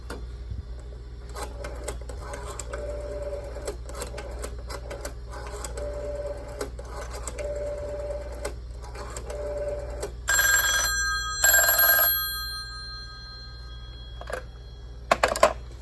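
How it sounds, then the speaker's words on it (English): Green Western Electric 500 desk telephone bell rings in two loud, close bursts of bright metallic jangling, preceded by low mechanical clicking and hum, with a few sharp knocks at the end. "And then we'll ring the green 500."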